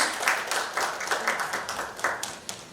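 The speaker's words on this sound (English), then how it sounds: "Round of applause, please." Applause from an audience at a Construction Federation of India industry event, a brief patter of scattered hand clapping, moderately loud and fairly close.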